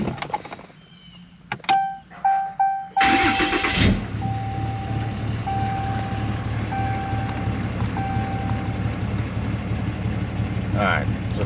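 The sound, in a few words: Ram 2500 Cummins diesel truck starting and idling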